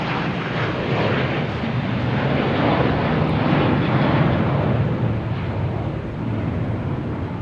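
A JetBlue jet airliner taking off at Boston Logan for Las Vegas, a loud, sustained engine roar that stays powerful and rumbling throughout, with no talking.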